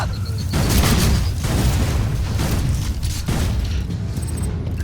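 Rumbling booms and bursts from a grenade going off in the Borderlands 2 video game, a loud sustained roar of explosions with crackling debris, swelling and easing over several seconds.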